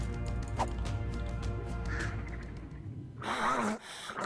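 A bird in the survival video game ARK gives a few harsh crow-like caws, with a louder rasping call near the end over a low rumbling game ambience.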